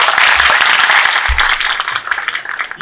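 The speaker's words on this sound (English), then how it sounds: "A big round of applause for all of us." An audience in a TEDx talk hall breaks into sustained applause, a dense wash of many hands clapping together that stays loud before gradually thinning and tapering off near the end.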